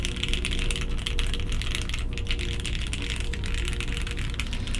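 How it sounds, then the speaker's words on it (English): Steady, quick typing on a Jane V2 CE mechanical keyboard fitted with GMK Vaporwave keycaps produces a continuous stream of crisp, clacky keystrokes at moderate volume, with no voices. "Typing sound."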